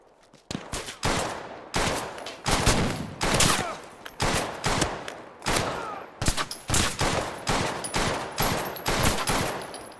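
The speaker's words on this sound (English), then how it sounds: "Most definitely that's shooting at us." Hostile gunfire aimed at the player in a hardcore Fallout 4 modlist video game, loud, close bursts of rapid automatic shots separated by short pauses, repeating across the whole stretch.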